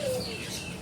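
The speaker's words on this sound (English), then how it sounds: "there is a bird up there" A single bird calls briefly at Animal Kingdom, a short thin whistled note rising over steady outdoor background noise, moderately close.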